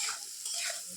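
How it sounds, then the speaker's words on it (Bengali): Spices being sautéed with potatoes in a pan, a soft continuous sizzle with scraping stir noises, steady and fairly quiet. "মশলাটা একটু কষিয়ে নিলাম আলুটার সাথে"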